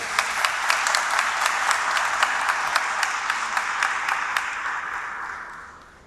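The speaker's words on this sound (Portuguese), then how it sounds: "Só uma salva de palmas para eles, por favor." An audience at a Brazil-Germany mining and mineral resources conference applauds presenters: dense, steady clapping from many hands that holds for several seconds, then fades out.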